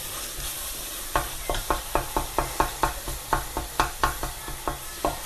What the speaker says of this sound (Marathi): चला आता मसाला पण शिजलेला आहे मस्त तेलामध्ये